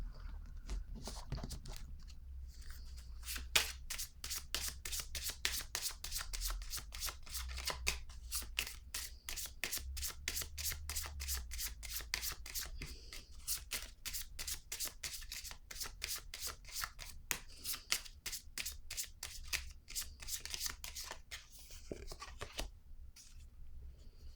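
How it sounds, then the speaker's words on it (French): A deck of tarot cards being shuffled to draw another card, a steady rapid riffle of soft flicking snaps running continuously, close and quiet, with no talking. "Je vais piger une autre carte ici par curiosité."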